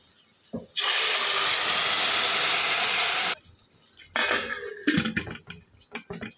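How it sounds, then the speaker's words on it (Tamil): Dal sambar boils in a pot with a loud rushing, bubbling hiss for a few seconds. Softer clattering and splashing sounds follow. "இப்போ வந்து நல்லா கொதிச்சு வந்துருச்சு"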